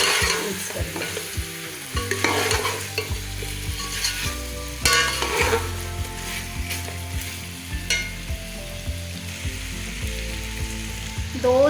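Ground masala being stirred into a sizzling biryani base in a hot pan, with steady frying crackle and repeated scraping strokes of a spoon against the vessel, close and continuous throughout.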